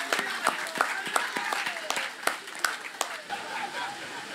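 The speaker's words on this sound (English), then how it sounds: "Please, a round of applause." Scattered applause at a Ghanaian energy plant commissioning ceremony, individual claps standing out in an uneven patter, moderately distant and fairly soft.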